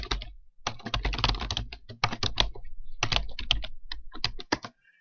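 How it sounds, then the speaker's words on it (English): Keys clatter on a computer keyboard in quick bursts of typing broken by short pauses, close and fairly quiet, with no one speaking. "we'll type in Pacific Delivery Service"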